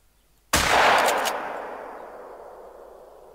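A single loud shotgun blast in the hunting game theHunter: Call of the Wild, a sharp sudden crack followed by a long echoing decay that fades over about three seconds, with no talk.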